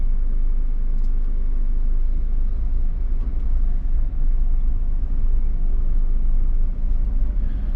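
Steady, dense city traffic on a busy Batam street at night, a continuous low rumble of many cars and buses passing close by with no pauses.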